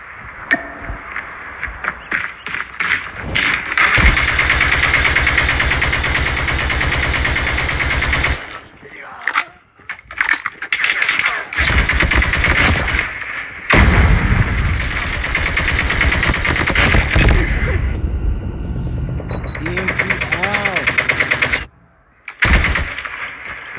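Rapid automatic AK rifle fire in the mobile shooter Call of Duty Mobile, long loud bursts broken by short pauses, with game pings and some talk around them.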